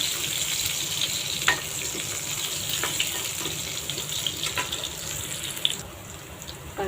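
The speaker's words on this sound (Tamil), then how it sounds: "கடுகு பொரிஞ்சிச்சு. நம்ம பூண்டு போட்டுக்கலாம். பூண்டு லைட்டாக செவரட்டும்." Garlic sizzling in hot oil with popped mustard seeds for a simple brinjal poriyal, a steady crackling hiss with a few sharp pops and faint stirring, close and continuous.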